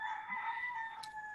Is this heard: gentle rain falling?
no